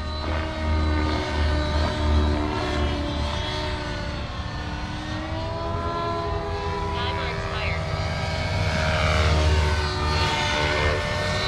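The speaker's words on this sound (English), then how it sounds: "Engine's running fantastic." A small nitro RC helicopter engine whines continuously at high pitch, its revs wavering up and down, with a voice talking over it.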